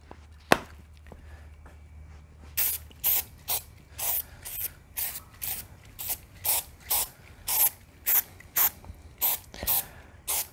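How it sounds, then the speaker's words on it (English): Plexus plastic cleaner sprays onto the plastic rear window of a BMW Z3 in a quick series of short, sharp hissing bursts, about fifteen close, evenly paced pumps after a brief quiet start, with no talking. "Spray on a light coat, wipe off and buff."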